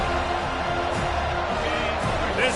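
A college football video game stadium crowd roars as a steady, dense wash of noise throughout, with faint cheering swells and no clear speech.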